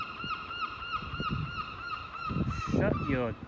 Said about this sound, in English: Bloody seagulls, guys.